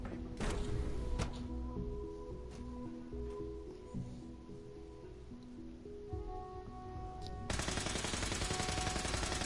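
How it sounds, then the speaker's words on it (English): Gunfire in the Fallout 4 video game comes as bursts of machine-gun and gunshot crackle under a steady game background, moderately loud and then a dense rattling burst near the end. "I hear guns"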